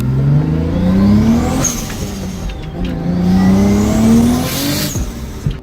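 Loud, close engine revving from a turbocharged Lexus IS300, with two long rising sweeps in pitch separated by a brief drop, heard alone without any talk.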